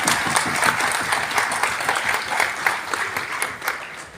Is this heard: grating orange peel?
no